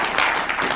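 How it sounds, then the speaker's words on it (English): Applause from a crowd at a media conference for All Canada Drumming: a brief, dense, loud burst of clapping lasting under a second. "Once again, a round of big applause to Dr. Wong, and also our regional chair, Mr. Ho."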